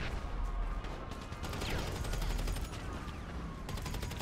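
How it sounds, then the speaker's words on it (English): Rapid gunfire bursts and explosive thumps from grenade launchers in an online first-person shooter match, sustained dense firing noise throughout at close range. "They're using grenade launchers."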